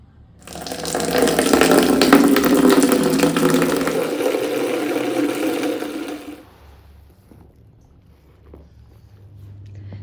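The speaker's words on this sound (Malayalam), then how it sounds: "വരൂ നമുക്ക് തുണി കഴുകാം" Water gushes loudly from a tap for several seconds as clothes are soaked for washing, then the flow stops abruptly, leaving faint quiet clatter.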